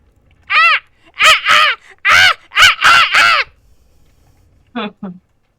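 A human voice imitates a blue-winged raven cawing angrily from atop a windmill, producing a run of loud, harsh, close caws, then two shorter calls after a pause.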